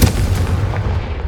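A single heavy boom from the Confringo blasting spell in Hogwarts Legacy, a loud close explosion that rumbles and decays over about a second, with no talking.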